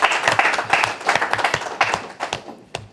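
A small meeting room at a Rotary Club bursts into brisk, scattered hand clapping from a modest crowd, the applause close and lively before thinning out.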